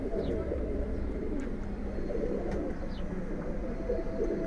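Pigeons in a Dhaka rooftop loft of record-holding racing birds give soft, low coos. The cooing sits faintly beneath a steady wash of background noise, with a few thin chirps scattered through it.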